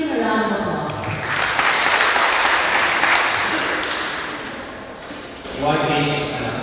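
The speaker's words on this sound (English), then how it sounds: "Please give him a round of applause" Audience at a formal event breaks into sustained applause for a welcoming speaker, a dense clapping wash that swells, eases off, then rises again, with a voice and sustained musical tones underneath.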